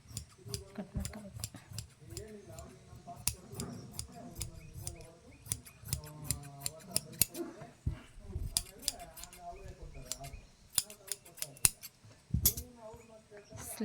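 Scissors snipping blouse sleeve fabric, a 34-size lined blouse being cut: sharp, irregular clicks and short crisp snips repeated throughout at close range, with someone talking over much of it.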